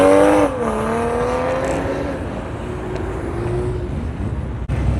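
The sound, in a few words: turbocharged Volkswagen Beetle driving past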